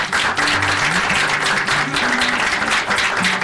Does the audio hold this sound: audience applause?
yes